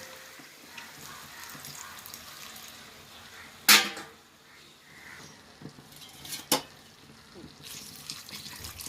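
Tamarind extract poured into an okra tamarind curry, a short sharp splash of liquid hitting the pan followed by a smaller second splash, amid light background clatter.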